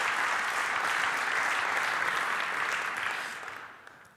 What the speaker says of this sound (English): A big round of applause, please, to all our sponsors.